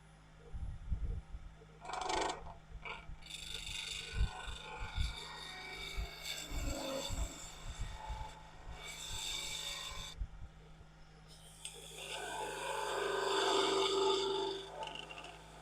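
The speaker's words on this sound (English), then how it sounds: "Use a spindle gouge like a skewer for a minute." Spindle gouge cutting wood on a spinning lathe, a steady rasping scrape with bursts of rhythmic chatter and changing tone as the tool moves, fairly close and continuous.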